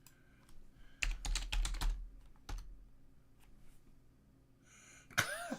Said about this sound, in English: You need to type the word normal.